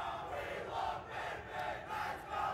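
Live esports crowd at a Super Smash Bros. Ultimate singles tournament, a large roaring mass of voices rising and falling in waves as people cheer and chant, steady and fairly distant.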